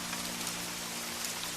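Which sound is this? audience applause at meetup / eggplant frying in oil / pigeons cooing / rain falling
rain falling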